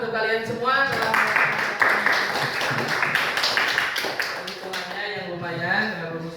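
A classroom of students bursts into a few seconds of clapping, with the teacher's voice speaking just before and after it.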